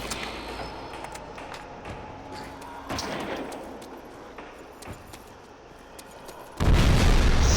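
A grenade detonates in Call of Duty: World at War Zombies with a loud, sudden boom near the end, after a stretch of scattered game clatter and thuds.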